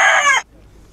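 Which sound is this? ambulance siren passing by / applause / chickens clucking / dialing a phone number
chickens clucking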